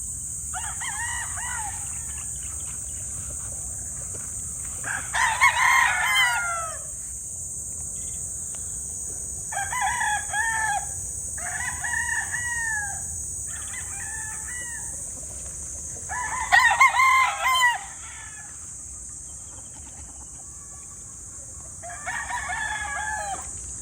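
Gamefowl roosters crowing repeatedly, about six cock-a-doodle-doo calls at varying distances over a constant high insect drone, with some clucking in between.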